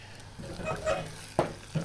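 Egg noodles sizzle and crackle softly in a hot pan, with a couple of brief stirring scrapes.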